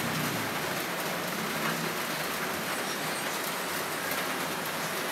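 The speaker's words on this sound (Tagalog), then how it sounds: "Umuulan." Steady rain falls as a continuous soft hiss of drops on a surface, faint and even throughout, with no voices.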